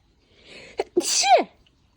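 A single sharp human sneeze indoors, preceded by a short inhaling build-up, loud and close with no voices over it.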